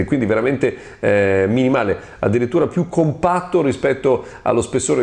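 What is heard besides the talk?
None of the usual background noises is heard.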